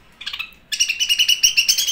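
A pet budgerigar parakeet chirps, a short burst of shrill twittering followed by a steady run of rapid, bright, close chirps with no talk.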